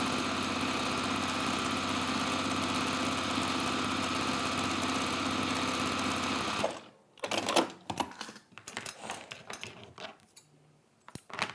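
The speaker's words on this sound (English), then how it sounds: "And then we can sew down the other side." Sewing machine running fast and steady for several seconds while top stitching fabric bag handles, then stopping, followed by scattered soft handling clicks and rustles.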